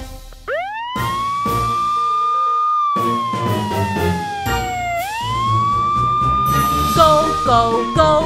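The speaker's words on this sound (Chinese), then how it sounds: "我是怪兽消防车，不要害怕，我来救你，尼诺尼诺" A cartoon monster fire truck siren wails in a children's nursery song, a loud rising-and-falling electronic tone that sweeps up, holds and dips, over bouncy music with percussive hits.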